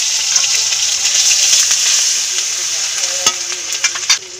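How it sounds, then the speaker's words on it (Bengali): A bay leaf and garlic paste dropped into hot oil in a kadai, giving a loud, close, continuous sizzle with a few sharp spoon clicks near the end. "তেল গরম হয়ে গেছে, একটা তেজপাতা দিয়ে দিব, রসুন বাটা দিয়ে দিব"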